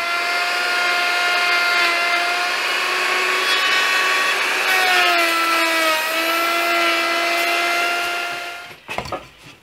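A wood router whines at high speed while cutting a dado, a loud, steady tonal scream that shifts pitch slightly midway before winding down and stopping just before the end.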